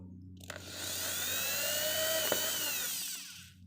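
A power drill runs for one continuous burst, its motor whine rising then winding down, close and fairly loud, with small clicks at the start and no talking.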